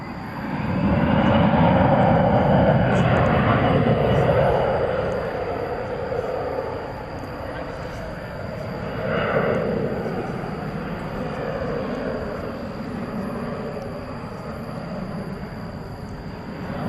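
Turkish Airlines jet taking off at night at DFW airport, a broad steady engine roar loudest early on, then easing to a sustained distant rumble that continues to the end.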